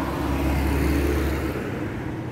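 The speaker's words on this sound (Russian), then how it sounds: "Так, ну ладно, сейчас будет мой автобус." A city bus arriving at a stop gives a loud, close, steady low engine rumble that eases slightly toward the end, with no speech over it.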